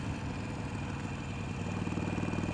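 A Harley-Davidson Sportster Iron 883 motorcycle idles close by with its stock baffles in, giving a steady, even low rumble throughout.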